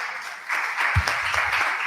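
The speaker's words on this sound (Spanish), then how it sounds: "un aplauso a Marcos." Applause from an audience at a science expo in Nicaragua breaks out partway through and continues steadily as a broad, even patter of clapping.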